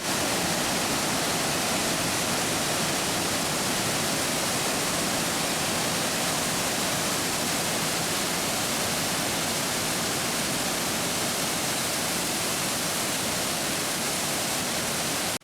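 Bridal Veil Falls in Oregon pours down in a dense, continuous roar of falling water, loud and unchanging from start to finish with no other sounds.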